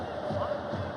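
Stadium crowd in the football game FIFA 11 giving a sustained roar of reaction, steady and loud, with no commentary audible over it.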